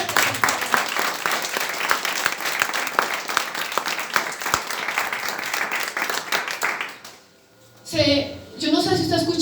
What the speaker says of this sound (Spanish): Denle un aplauso al Señor fuerte.